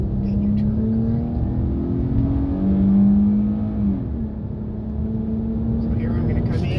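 A race car engine in a racing video game holds a steady high drone, with the pitch sliding as the throttle comes back on out of a corner, while someone talks over it.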